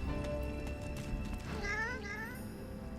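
A skeletal cat in the fantasy game Divinity: Original Sin 2 lets out a pair of rising, wavering meows over a low ambient game soundscape, fairly close and clear.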